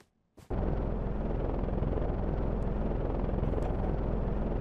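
A Minecraft airplane engine starts with a click, then holds a loud, constant droning roar with a fast rhythmic throb, alone and close.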